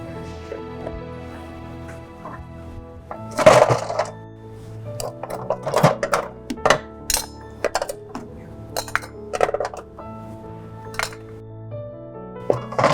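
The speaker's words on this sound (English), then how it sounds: "So the next, we're going to take some ice ball from the fridge." Ice balls taken from an LG InstaView refrigerator clink and knock into a cocktail glass in a kitchen: a scattered series of sharp, close, bright taps and thunks over a quiet background.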